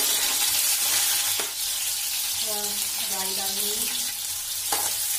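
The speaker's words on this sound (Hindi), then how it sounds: "इसको हरी मिर्च से फ्राई करेंगे" Green chillies frying in hot refined oil hiss with a constant close sizzle, with a couple of brief clanks of a utensil and a short spoken word over it.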